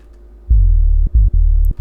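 Deep Serum synth bass with a unipolar master-tune modulation pulling the pitch downward, playing three sustained low notes separated by short gaps, loud and alone with no talking.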